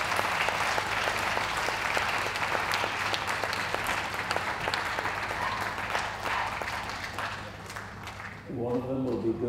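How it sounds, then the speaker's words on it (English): Audience applause at the Darlington Championship dog show rings out in dense, sustained clapping for the group winners, with a few sharp individual claps, fading near the end as a voice begins speaking. "So let's give them a round of applause for all of our seven group winners."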